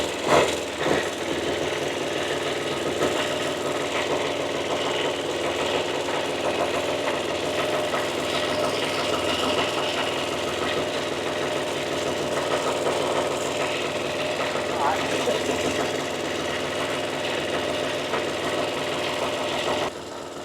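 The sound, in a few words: Caterpillar Diesel 70 pony motor running and warming up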